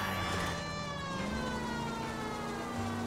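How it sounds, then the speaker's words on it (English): Police car siren in the video game L.A. Noire, a continuous wailing tone sliding slowly up and down over engine rumble, loud and unbroken throughout. "Siren time, baby."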